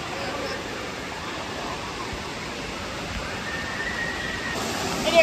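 Water runs at an indoor pool, a steady, close hiss of splashing flow like a shower or spray that holds level throughout, with no clear voices over it.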